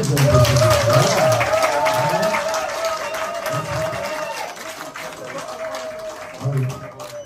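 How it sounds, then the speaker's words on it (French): Subdued applause ripples through the audience at the handover ceremony between two Congolese Prime Ministers, a soft continuous patter with someone talking over it. "Les applaudissements timides"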